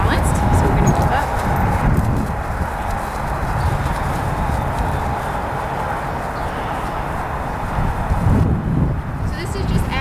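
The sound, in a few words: horse hooves walking up and down an incline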